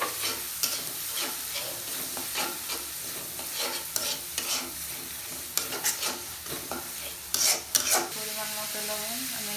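Garlic paste, green chili and spices sizzling steadily in a hot pan while a spoon stirs and scrapes at irregular intervals, close and continuous, with a few sharper clinks near the end.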